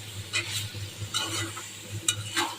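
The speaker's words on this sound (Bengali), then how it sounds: "এখন আমি পেঁয়াজগুলি ভালো করে মাংসের সাথে মানে একটু উপর নিচে করে দিচ্ছি" Onions being stirred and turned over with chicken in a pot on raised heat, with steady sizzling and repeated scraping strokes of a spoon at close range under a low hum.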